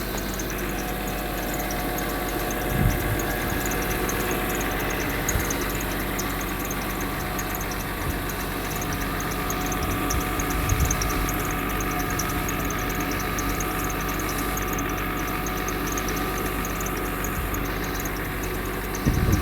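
Steady, calm idle of a nearby Mercedes 300SE engine (M103), an even low hum with light mechanical ticking and occasional soft knocks.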